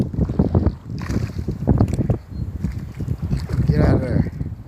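Strong gusting wind buffets the microphone while fishing from a boat, a steady roaring rumble that rises and falls under people talking throughout.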